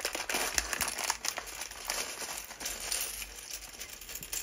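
Plastic bags holding Blue Brixx building bricks for a Snoopy set crinkle and rustle continuously, close up and fairly loud, with brief sharper crackles scattered throughout and no talking.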